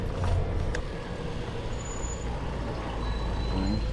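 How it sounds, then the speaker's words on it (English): Heavy trucks rumble along a Paris street on a sunny day, a steady low engine drone with faint mechanical creaks and brief hissing squeals, heard close from a bicycle with no one talking. "I think there's a series of trucks over here."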